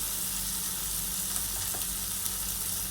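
Chopped tomatoes sizzle in browned onions in a pan for an okra bhaji, a steady, even frying hiss with faint crackles and no talking.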